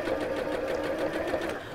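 A sewing machine stitches two long fabric pieces right sides together with a continuous fast, even whirring hum, close and steady throughout.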